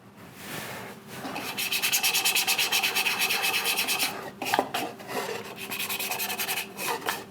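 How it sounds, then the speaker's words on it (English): Sandpaper rubs over a burned wooden bowl in fast, steady back-and-forth strokes, close and fairly loud, with a short pause midway before the scratchy rhythm resumes. "Give her a quick sand."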